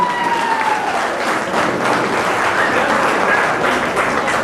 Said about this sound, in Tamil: அவருக்கு இன்னொரு முறை நாங்கள் கரகோஷத்தை தெரிவித்துக் கொள்வோம்.